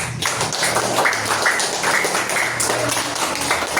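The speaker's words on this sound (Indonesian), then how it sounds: "Sekali lagi tepuk tangan untuk kita semua." Group of people in a primary school classroom clapping their hands, a brisk, fairly close round of applause that continues steadily for a few seconds.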